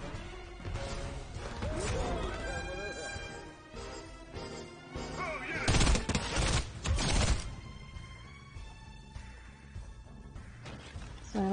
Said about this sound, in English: Oh, there's a lot of shooting.